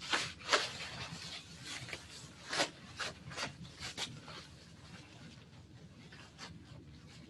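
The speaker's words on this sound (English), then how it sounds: "And we're putting on our gown." Protective gown being put on during dental clinical training, soft rustling and rubbing of fabric in uneven bursts, close and fairly quiet, no voices.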